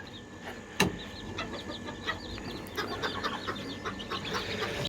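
Chicks cheeping in a coop at feeding time: many high, rapid peeps overlap in a busy chorus, with a sharp clank near the start and a soft background hum.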